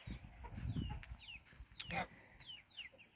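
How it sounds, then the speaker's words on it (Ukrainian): Two young goslings on a farmyard give soft, high peeping calls, a few brief chirps spread across the moment over low rumbling background noise. "тут ходить в мене двоє гусенят"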